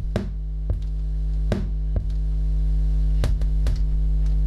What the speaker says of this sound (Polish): Jest to pyknięcie związane z przełączaniem